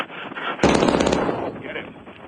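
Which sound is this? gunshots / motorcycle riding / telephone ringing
gunshots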